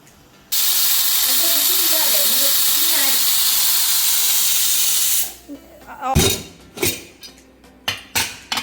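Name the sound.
pressure cooker whistle releasing steam, cooking mutton curry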